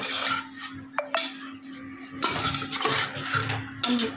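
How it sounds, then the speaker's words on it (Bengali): A spoon stirring marinated mutton curry in a pot, with metallic clinks and scrapes against the pan in a few uneven bursts over a low kitchen hum. "কাঁঠাল মাংস অনেকক্ষণ ধরে কষাতে হয়, তো আমরা এখন অনেকক্ষণ ধরে কষাচ্ছি"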